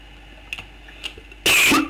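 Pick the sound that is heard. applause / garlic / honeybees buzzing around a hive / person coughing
person coughing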